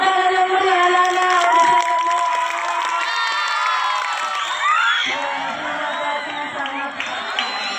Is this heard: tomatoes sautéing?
no